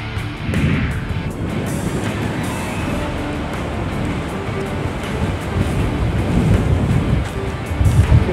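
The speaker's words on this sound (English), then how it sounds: "Dangerous high winds, 50, 60 mile an hour wind." Strong 50-60 mph wind gusts buffet the microphone outdoors, giving a steady, loud, roaring rumble that swells and surges toward the end, with no talking.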